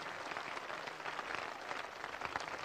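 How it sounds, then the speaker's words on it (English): A congregation claps together during a church service, a dense, continuous wash of hand claps with no gaps, moderately loud and steady throughout. "Clap for Jesus, clap for Jesus"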